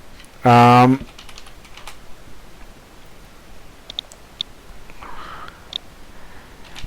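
A Ctrl F5 keypress on a computer keyboard: one short, loud clatter of keys near the start, followed by a quiet room with faint small ticks.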